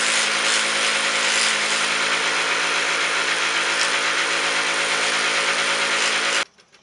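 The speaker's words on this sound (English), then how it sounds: "grinding wheel." A grinding wheel rounding the edges of a hammered-flat metal disc, a loud steady whirring grind held continuously for several seconds before cutting off abruptly near the end.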